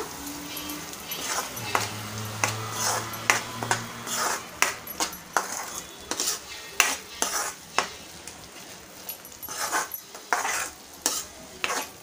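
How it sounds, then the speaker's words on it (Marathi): Masala for a Malvani-style Konkan egg curry is stirred and sautéed in a pan, with a steady sizzle under repeated close scrapes and taps of a spoon against the pan in an uneven rhythm, and no talk. "छान असं परतवून घेऊया"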